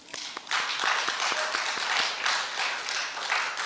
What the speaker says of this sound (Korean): 우리 열심히 계속해서 잘 해달라고 응원의 박수 한번